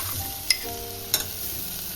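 Potatoes, carrots and beans sautéing for a Kerala vegetable stew, a low steady sizzle with two brief clinks of a utensil stirring the pan, quiet and close.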